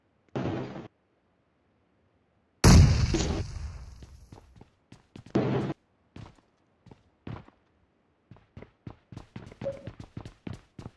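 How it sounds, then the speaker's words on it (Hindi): A grenade explodes in a multiplayer shooter game: a single heavy close blast with a ringing tail, followed by scattered clacks, thuds and quick footstep-like taps. "मैं डाल रहा हूँ एक ग्रेनेड।"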